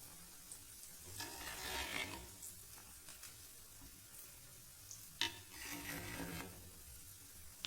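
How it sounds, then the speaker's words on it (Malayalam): Kerala fish curry with drumstick pods boiling in a covered pot gives off a steady bubbling sizzle with a few louder surges, close by and alone without talk. "അപ്പോൾ ഞാൻ ഇടയ്ക്കൊന്ന് തുറന്ന് നോക്കുമ്പോൾ നന്നായിട്ട് തിളച്ച് വരുന്നുണ്ട് കേട്ടോ"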